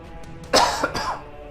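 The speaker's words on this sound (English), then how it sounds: "Excuse me on that cough." A single close, harsh cough with a throaty rasp, made up of two or three quick bursts in about a second against a quiet background.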